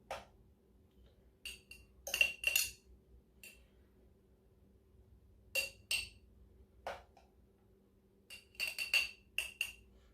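Warm cooked white rice spooned into a container, giving scattered light clinks and scrapes of a utensil against the dish in short bursts, separated by quiet pauses with a faint steady hum underneath.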